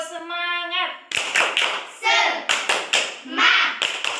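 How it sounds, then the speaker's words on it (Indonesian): A classroom of children doing the rhythmic tepuk semangat clapping chant, with sharp bursts of claps in a patterned beat mixed with a chanted voice, after a short sung or spoken opening. "sekarang coba kita tepuk semangat ya"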